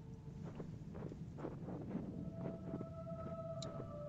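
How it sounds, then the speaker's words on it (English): An eerie, tonal melody of sustained notes in the video game Year Walk drifts over a low rumbling background, with faint thuds beneath and no voices. "That song is definitely getting louder."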